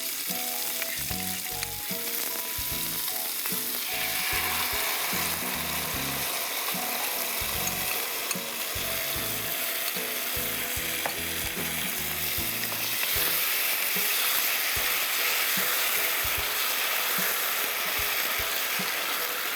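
Chicken sizzles loudly in a frying pan as sauce is added for hot garlic chicken. The hiss is steady and close, broken by repeated scraping stirs and clanks of a utensil, with no voices.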